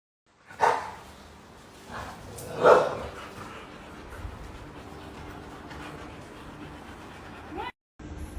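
A puppy gives two short barks near the start, close and fairly loud, then falls quiet over a low murmur of background room noise at a Halloween gathering.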